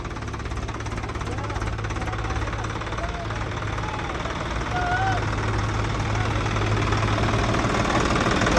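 Swaraj 744 XT tractor engine running steadily with a hopper attached, out of gear, a continuous low knocking drone that grows slightly louder partway through, with faint voices in the background.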